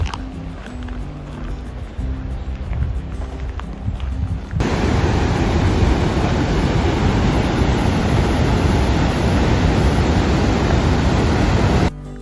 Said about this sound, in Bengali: বেশ অনেকটা দূর থেকে পানির শব্দ শোনা যাচ্ছে আপনারা তো অলরেডি শুনলেন